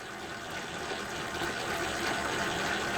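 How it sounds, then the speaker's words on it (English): Reserved water trickles into sourdough dough turning in a stand mixer at medium-high speed, giving a steady broadband wash of liquid and motor whir that swells slightly over a few seconds, with no voices. "We're going to start adding some of our reserved water to the dough."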